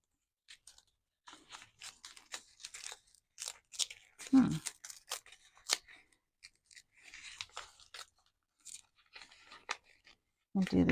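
Scissors snip through paper while an envelope pocket is being made, a series of short, quiet crisp cuts in uneven bursts with pauses between them, under soft talk from a nearby voice.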